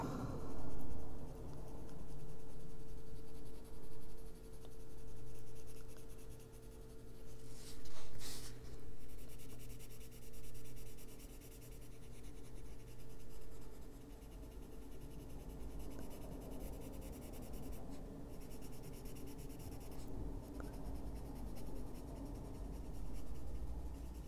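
Pencil coloring on paper for an adult coloring book, a long stretch of close, steady scratchy strokes with short pauses and no talk.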